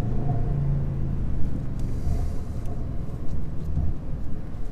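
An Overfinch Range Rover SVR drives on the road with a continuous, loud, low engine and road rumble inside the cabin, with no speech.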